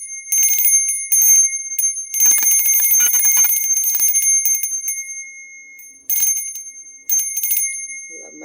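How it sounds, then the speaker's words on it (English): Small bright bells jingle and tinkle in several bursts with brief pauses between, close and clear, ending in quiet, with no talking. "I love my bells. I love bells."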